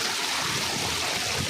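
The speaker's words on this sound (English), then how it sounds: "How water is going over the road," Floodwater from heavy rain streams across a submerged village road, producing a steady, continuous rush and trickle with no break, fairly close and moderately loud, with no voices over it.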